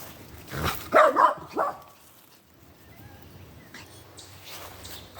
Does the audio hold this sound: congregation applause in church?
no